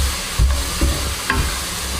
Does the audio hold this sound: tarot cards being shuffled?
no